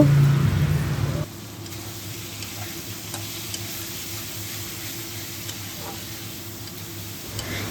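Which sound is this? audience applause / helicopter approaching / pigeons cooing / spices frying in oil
spices frying in oil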